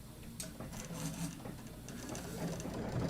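A sewing machine stitches quilt fabric in one continuous mechanical whir, fairly quiet and close, with no speech.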